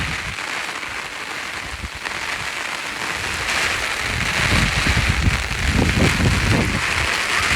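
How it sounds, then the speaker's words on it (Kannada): Heavy rain pours down with a broad roaring hiss that swells louder midway, mixed with gusty rumbling like wind buffeting the microphone. "ಗಾಳಿ ಮಳೆ ಬಂದ ಕಾರಣ ಎಲ್ಲನೂ ಚಲ್ಲಾಪಿಲ್ಲಿಯಾಗಿ ಭಾರಿ ಮಳೆ ಬಂದಿದೆ"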